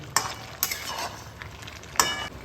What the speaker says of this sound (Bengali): পনিরগুলোকে ভালোভাবে মিশিয়ে নেব, যাতে পনিরের মধ্যেও এই তরকারির ঝোলটা ঢোকে।